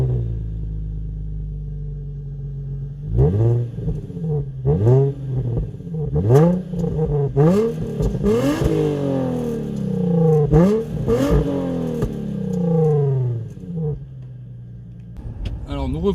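A Nissan 350Z engine revs repeatedly, close and loud, in a quick run of rising and falling sweeps after a few seconds of low idle, settling back toward idle near the end.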